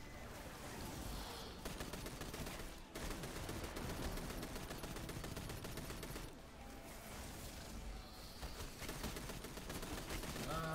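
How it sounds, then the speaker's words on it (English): Dense gunfire in the Destiny 2 video game, with rapid bursts of shots rattling on almost continuously, close and loud, and a brief drop near the middle before the shooting resumes. "I'm getting shot from the side."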